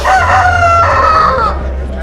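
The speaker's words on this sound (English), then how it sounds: "watching two roosters rip each other to shreds" Two roosters in a Uyghur cockfight crow loudly and close, a long harmonic cock-a-doodle-doo call lasting about a second and a half over a low rumbling background, fading toward the end.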